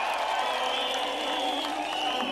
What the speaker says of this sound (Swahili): Watu wa Tharaka Nithi wape makofi ya Deputy President wa Republic of Kenya